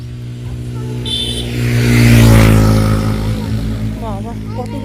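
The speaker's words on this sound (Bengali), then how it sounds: "বাইকটা চালিয়ে গেল" A motorbike rides past on a village lane beside a small shop in rural Bengal, swelling louder as it nears and fading as it goes, with people talking nearby.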